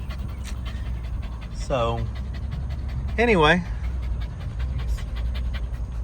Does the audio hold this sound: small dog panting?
yes